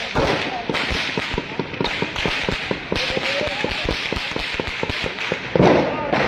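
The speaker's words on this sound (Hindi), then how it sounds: "भरपूर तरीके से फायरिंग हो रही है।" Rapid gunfire sounds during clashes between police and others in Pakistan-occupied Kashmir: dense, sharp cracks rattle in quick succession against a noisy crowd background, and a louder burst comes near the end.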